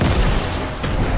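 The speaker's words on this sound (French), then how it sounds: "Lance grenade." A grenade explosion in the video game Fortnite, one loud, heavy boom whose dense rumble fills the whole moment and swells again near the end, with no voices.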